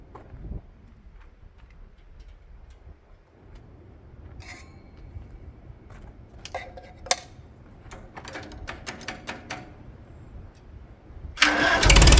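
A Farmall H tractor with a wide front axle cranks with a few clicks and rattles, then the engine catches and rises to a loud rumble at the end, close by with no talking.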